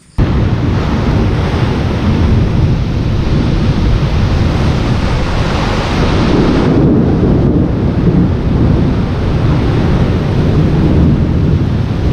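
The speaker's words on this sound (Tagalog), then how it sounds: "halos nayanig yung kubo mga kautol sa lakas ng kidlat" A strong thunderstorm rages around a small hut, with a loud, continuous roar of rain and wind and deep thunder rumbling close by throughout, and no voices.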